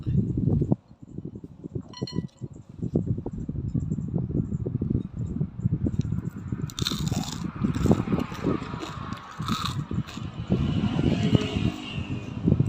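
Close, crackly crunching and chewing of crispy fried rice-field crab, a dense run of sharp bites and crunches that goes on without pause across the whole stretch.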